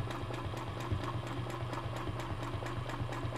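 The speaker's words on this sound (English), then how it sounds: "I'm going to stitch straight down again." A sewing machine runs steadily, stitching a turkey design onto fabric, with a fast even needle rhythm that hums and chatters close up and continuously without talk.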